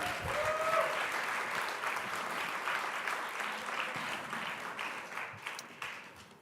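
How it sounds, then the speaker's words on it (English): A large crowd claps steadily, a dense wash of applause that slowly thins and fades toward the end. "So please applaud yourselves."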